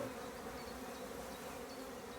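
Honey bees hum in a steady, soft drone around an opened hive where wild comb had been built below the frames, a continuous buzz with no voices.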